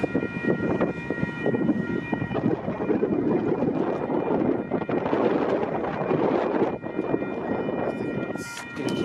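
A train rumbles past the Mulgrave level crossing in Sydney, Australia, with steady, heavy rolling noise and rhythmic clatter, loud and close throughout.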